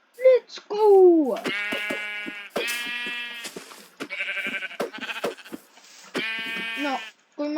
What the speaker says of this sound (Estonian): veel üks lammas!